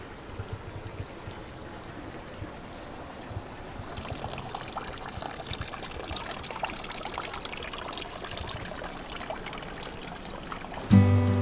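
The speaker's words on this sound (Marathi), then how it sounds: "तुम्ही कसं पाणी झिरपतं बघा" Water seeps and trickles down a small hillside on the Jaigad coast in a continuous thin splashing stream, steady and moderately close, ending with a brief louder knock.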